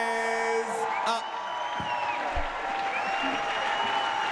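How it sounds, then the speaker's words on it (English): Loud, sustained applause and cheering from a large crowd fill a dome at a team jigsaw puzzle championship as time runs out, with voices talking over the clapping. "That's a big cheer."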